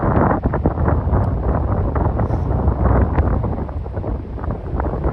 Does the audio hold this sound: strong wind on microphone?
yes